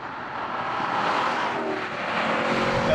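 A Chevrolet SS V8 engine drones steadily while the car is driven, a continuous muffled roar that swells slightly toward the end.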